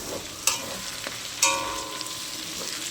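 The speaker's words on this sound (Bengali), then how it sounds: "পেঁয়াজটা কিন্তু সুন্দর করে লাল লাল করে কিন্তু ভেজে" Onions frying in oil until reddish-brown for a chicken curry, a steady close sizzle broken by a few sharp stirring clinks and scrapes.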